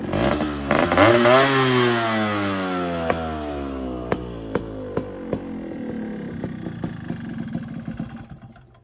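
A loud 1985 Yamaha RXZ motorcycle with a fully modified engine revs hard, climbing then winding down, followed by sharp popping crackles from the exhaust at fairly regular intervals.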